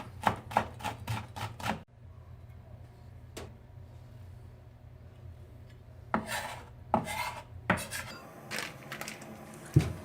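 Garlic, chili peppers and onion are minced on a board. A fast burst of knife chops opens, then a quiet stretch with a single knock, then further uneven clusters of chopping and tapping close by.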